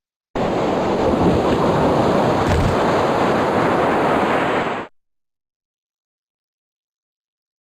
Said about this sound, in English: the huge wave crashing over the land